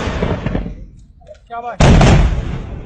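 A weapon fired on command at an army firing range, giving a single sharp, loud blast partway through with a booming tail, between bursts of nearby shouted orders and praise.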